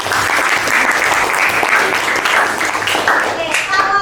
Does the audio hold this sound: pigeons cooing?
no